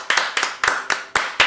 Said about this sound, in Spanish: Un aplauso a Mercadona